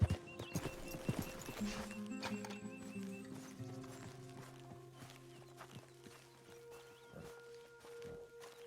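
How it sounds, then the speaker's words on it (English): Horse hooves clip-clop at a walking pace while riding in Red Dead Redemption 2, rhythmic and fairly close, loudest early then settling under a quiet game score. "Come on, horse."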